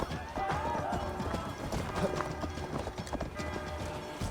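Horse hooves clip-clop at a steady running gait in Assassin's Creed Valhalla, close and continuous over game ambience, with an occasional faint whinny.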